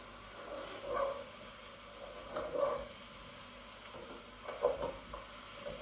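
Onions, garlic and carrot fry gently in a pan while being stirred, giving a faint, steady sizzle with a few soft scraping bursts.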